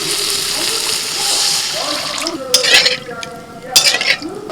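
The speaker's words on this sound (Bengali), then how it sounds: "মশলাটা বেশ ভালো করে কষিয়ে নিয়েছি কিছুক্ষণের জন্য ঢাকা দিয়ে দিয়েছিলাম দেখুন পুরো পেঁয়াজগুলো সিদ্ধ হয়ে একদম ঘেটে গেছে এবার জল দিচ্ছি" Water added to masala in a pan, the spices already well fried and the onions cooked down soft for a Bengali fish curry: sizzling and bubbling with stirring, then sharp scrapes and clinks of a spoon against the pan.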